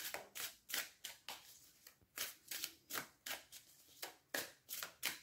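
Playing cards cut and handled on a table mat, a quick run of about a dozen soft, crisp riffling swishes in steady rhythm, close and quiet.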